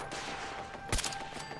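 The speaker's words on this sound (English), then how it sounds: "Launching some missiles." A rocket launcher fires missiles in the video game Fallout 4, a single sharp blast burst in the middle of a short stretch of low background noise, with no talking.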